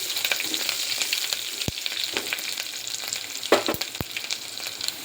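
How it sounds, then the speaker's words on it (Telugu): Crushed garlic cloves fry in a pan with a dense, steady sizzle, broken by a few sharp clicks and scrapes as the pan is stirred, and no one speaks. "నేను ఒక 4 గడ్డలు దంచి పెట్టుకొని దీంట్లో వేస్తున్నాను."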